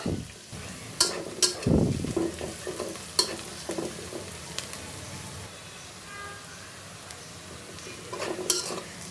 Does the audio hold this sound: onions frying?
yes